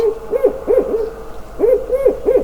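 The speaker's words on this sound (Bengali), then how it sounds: "এটা প্যাঁচার ডাক।" A buffy fish owl hoots in the Sundarbans in a steady series of low, paired calls, about five in quick succession, loud and close with nothing else over them.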